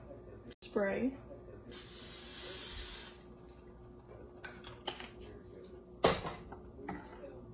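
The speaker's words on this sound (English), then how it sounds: "We're gonna spray our pan with nonstick spray." A steady hiss of aerosol nonstick cooking spray onto a cast iron skillet lasting about a second, with a few clicks and clatters of the pan before and after.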